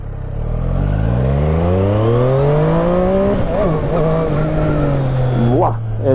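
A 123 hp Triumph Street Triple RS motorcycle in Sport mode accelerates hard, its loud engine note climbing steadily through the revs up close, with a brief shift and a voice near the end.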